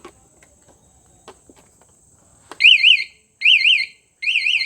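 An anti-theft security alarm on a TVS Ntorq 125 scooter answers a few faint taps with three loud, close bursts of rapidly warbling electronic beeps, separated by short silences.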